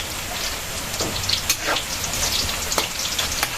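Sliced onions hit a hot pan while alamang is being cooked, giving a steady crackling sizzle with scattered sharp pops and spits close by, and no voices over it.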